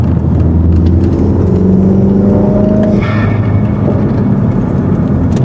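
A MINI F56 engine in sport mode, heard from inside the cabin with the windows closed, gives a loud, steady deep rumble with droning tones that shift in pitch partway through.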